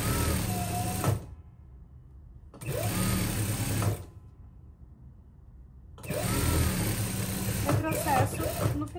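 Sewing machine stitching a jacket seam toward the lining, running in three loud bursts separated by pauses, the last longer with a backstitch at the end; someone talks over the machine.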